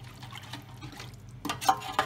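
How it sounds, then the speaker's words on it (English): Warm water is poured into a roasting tray holding scraped-up juices and fat, a soft trickle at first that swells into a brief louder splashing pour near the end. "And add in 2 cups of warm water, just to help it all come off."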